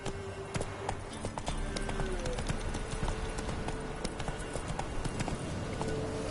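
Roach the horse gallops at a steady rhythm in The Witcher 3 on PS4, hooves clip-clopping close and loud over continuous game ambience, with a voice speaking briefly over it.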